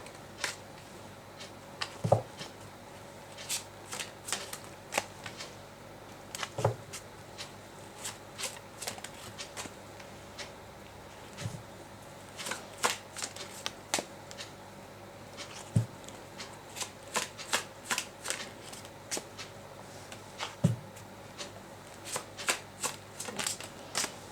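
Tarot cards are shuffled by hand in repeated bursts of crisp riffling and snapping taps, close and fairly quiet, spread evenly across the whole span with no talk.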